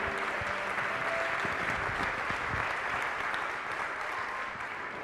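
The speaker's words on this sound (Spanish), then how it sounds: "hay que darle un fuerte aplauso" Audience at the Branducers 2012 event applauding Toni Segarra, a sustained, even round of clapping from a sizable crowd that continues steadily and begins to taper toward the end.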